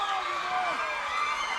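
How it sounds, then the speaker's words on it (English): Crowd cheering at a World Class Championship Wrestling event as the Fantastics, Tommy Rogers and Bobby Fulton, shed their frock coats in the ring; a steady roar of arena noise runs the whole time under a commentator's voice. "They get a cheer."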